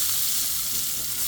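Chopped onion sizzling in hot ghee after mustard seeds and curry leaves, a loud, dense, continuous hiss of frying close up with no break.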